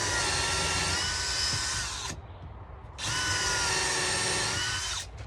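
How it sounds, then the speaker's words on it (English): Power drill pre-drilling holes in wood while a cart is being built, two long loud high-pitched whirring runs close by, separated by a brief pause, with no talking. "Again, we're just pre-drilling everything."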